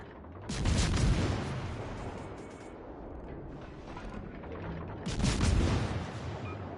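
Battleship turret guns firing in World of Warships Legends, two heavy booming salvos a few seconds apart with rolling rumble in between, loud and close with no talk.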